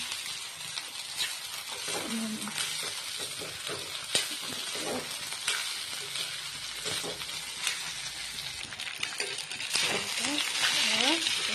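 Fried rice is stirred and mixed in a hot pan with a continuous sizzle, repeated metallic scrapes and clinks of the spatula against the pan, and brief voices speaking now and then over it.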